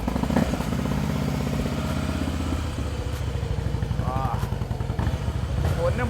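A superbike with its engine idling, a near, steady low rumble, with a brief clunk as the gear is shifted early on; people talk over it throughout.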